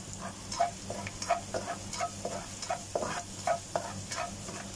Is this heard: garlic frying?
yes